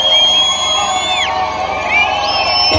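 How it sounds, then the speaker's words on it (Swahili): Crowd cheering at an outdoor political rally for John Heche, a loud continuous roar of voices with high whistles rising and falling over it, sustained without a break. "Nataka nisikie shangwe za wananchi."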